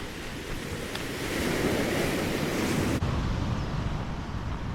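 Ocean waves wash onto a beach in Kihei, Maui, a steady broad roar of surf with some wind noise, loud and continuous with no talk.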